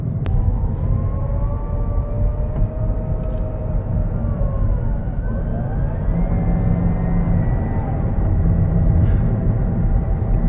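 A hydrogen fuel cell car driving, with a steady electric-style whine carrying a higher screeching motor tone and faint gliding pitch lines over a continuous low road rumble, close and sustained.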